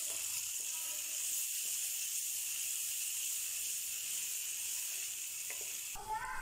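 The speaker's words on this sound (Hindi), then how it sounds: "प्याज को लाइट ब्राउन कर लेंगे।" Two medium-sized onions frying in hot oil in a pan, a steady close sizzle and hiss that holds evenly throughout, with a faint clatter of stirring near the end.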